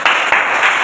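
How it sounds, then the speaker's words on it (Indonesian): Brief burst of applause from a classroom welcoming a group of students forward during a teacher's performance assessment, a dense, steady wash of clapping lasting under a second. "Kita beri tepuk tangan untuk kelompok 1."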